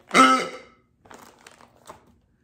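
A voice imitates a frog with one deep, raspy croak up close, followed by faint rustling.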